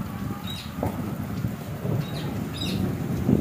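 Rain falls outdoors as a dense, steady wash with low rumbling that suggests distant thunder, plus a few faint chirps and scattered splashes.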